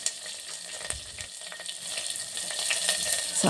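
Mustard seeds and cumin frying in hot oil in a pot for a dal saaru tempering, giving a continuous bright sizzle with light stirring scrapes, growing steadily louder and denser toward the end.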